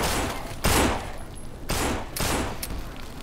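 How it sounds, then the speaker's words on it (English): Gunfire in the zombie video game No More Room In Hell, a few loud, booming shots spaced irregularly, each with a long ringing tail, amid heavy background noise. "Right, I'm using my pistol."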